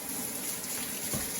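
Tap water runs steadily over vegetable stems being rinsed in a kitchen, a close, continuous gushing wash with no talk.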